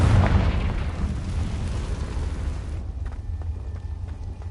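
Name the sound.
Confringo spell explosion in Hogwarts Legacy video game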